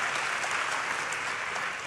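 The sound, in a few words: applause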